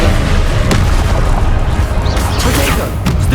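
The Confringo fire spell from the video game Hogwarts Legacy, cast during a boss fight with the Pensieve Guardian, sets off a loud, dense explosive boom. Crashing, rumbling battle noise continues through the whole clip.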